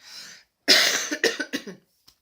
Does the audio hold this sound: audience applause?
no